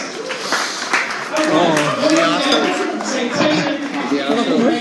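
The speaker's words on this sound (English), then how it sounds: "Ladies and gents, Mike Carter, give me a round of applause." A comedy club audience applauds comedian Mike Carter, a loud, dense wash of clapping and crowd noise that runs throughout, with voices and cheers mixed into it.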